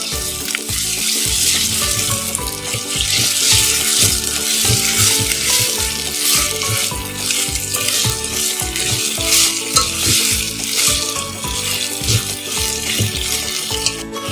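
Ginger garlic paste sizzling loudly in hot oil for a chicken curry (sherva), with repeated spoon stirring and scraping in the pan, close and continuous throughout with no talking.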